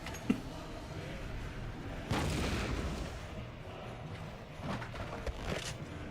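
A series of deep booms and rumbling blasts in the video game Monster Hunter Frontier during a Fatalis fight, one big burst followed by a sustained roar and further thuds, loud and close with no talking.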